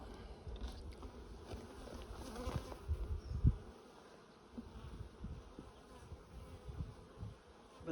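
Honey bees buzz around an open hive during a beekeeping check, a continuous nearby hum with occasional louder passes and handling thumps.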